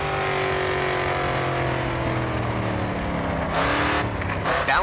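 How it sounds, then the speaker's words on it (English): A race car in Grid 2 drifting through a corner, its engine droning loud and steady with pitch rising and falling as it revs and slides, alone without talk. "Next corner, let's see a drift."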